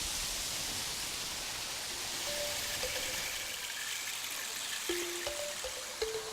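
Steady rushing water pours continuously down a rock wall at the 1,000-stage waterfall, a broad even hiss like a cascade, with a few faint tonal chirps surfacing toward the end.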